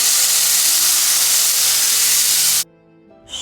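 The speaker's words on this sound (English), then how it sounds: "My shrimp is cut into thirds, and I'm just going to add it to the butter." Cut shrimp dropped into melted butter set off a loud, steady hiss that stops abruptly after about two and a half seconds and is followed by brief quiet.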